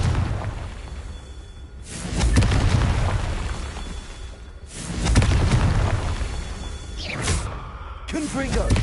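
Confringo fire spells go off in Hogwarts Legacy, making two heavy, rumbling explosive bursts a few seconds apart. Each burst swells and then fades over a continuous noisy backdrop, and brief sharper crackles follow near the end.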